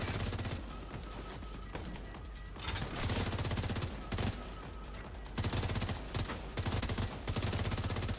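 Rapid automatic gunfire from the St. Elmo's Engine exotic rifle in The Division 2, sustained bursts of fast, steady shots at close range, broken by short pauses between volleys.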